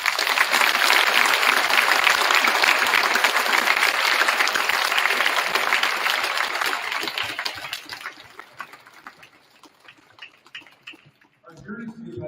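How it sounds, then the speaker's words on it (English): Strong audience applause for veterans at a university veterans program ceremony, sustained for about eight seconds before tapering off to scattered claps, with a voice starting to speak at the very end. "Please give them a round of applause."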